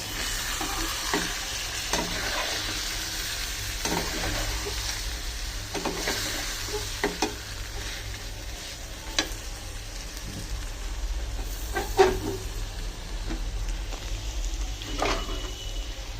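Meat cooking in a pan beside a pot of rice, giving a continuous close sizzle and bubbling with intermittent scraping clicks from stirring, under a low steady hum.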